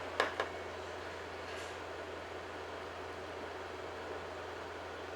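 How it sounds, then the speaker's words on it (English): Vehicle engine idles outside as a low, steady rumble with a constant hum, faint and distant, with a couple of brief clicks at the start. "Is this the guy that leaves the engine running?"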